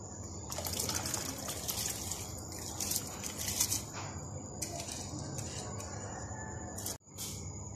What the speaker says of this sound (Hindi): अब मैं इसमें चावल ऐड कर दूंगी।